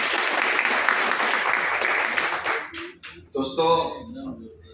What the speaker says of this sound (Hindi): एक जोरदार ताली इन सभी लोगों के लिए